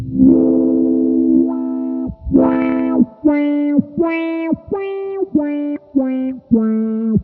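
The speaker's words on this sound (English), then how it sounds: "You can hear how the pedal allows me to move the cutoff around." Distorted electric guitar notes picked in a steady rhythm through a Pigtronix Resotron pedal, each note's tone sweeping as the filter cutoff opens and closes, wah-like and loud.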